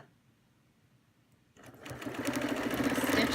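A sewing machine starts up after a quiet moment and runs steadily, stitching a clamshell quilting design with a fast, even mechanical whir that grows louder.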